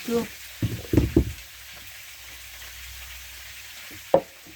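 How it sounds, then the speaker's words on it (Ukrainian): A frying pan sizzles quietly in the background with onions and pork belly while a few short voice sounds and clatters break in near the start and end. "Сковорідка наша шкварчить"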